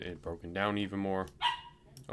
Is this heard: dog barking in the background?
yes